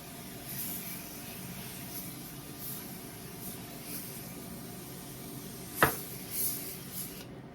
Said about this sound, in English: And I'm also spraying off the top of the toilet.